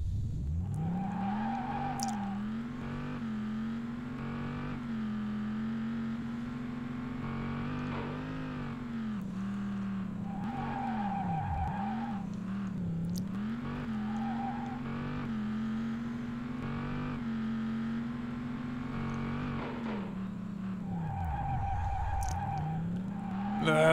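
Race car in the PS1 driving game Vanishing Point skids and tumbles over, its engine droning steadily beneath repeated tire squeals for the whole stretch, loud and close with no voices.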